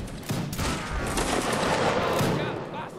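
Musket volley fire in a Napoleonic Wars line-battle video game, a dense crackling fusillade of many shots running continuously for about three seconds, loud and close with a rolling, layered quality.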